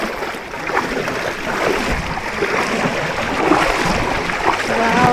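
River water rushes steadily beside a jungle path at Shivkhola near Kurseong, Darjeeling, a continuous close, loud wash of flowing water with faint voices in the background.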